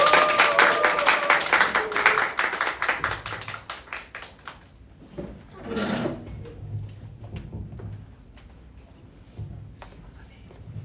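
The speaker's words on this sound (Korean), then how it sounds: "우리 큰 박수와 함성으로 환대해 주세요." An audience at a Korean church high-school lecture event claps loudly for a speaker coming up. The dense clapping is strongest at first, then thins into scattered claps and faint murmuring.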